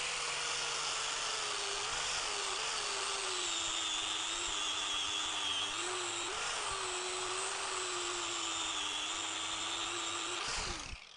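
Angle grinder smoothing the steel of a Parkside bench vise, a steady, loud high-pitched whine that runs continuously for about ten seconds, then winds down abruptly at the end.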